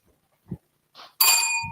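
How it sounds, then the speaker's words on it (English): A bell is struck once on stage at a conference session, giving a bright ringing tone that sustains and slowly fades, preceded by a few faint soft noises in an otherwise quiet room. "Please ring the bell."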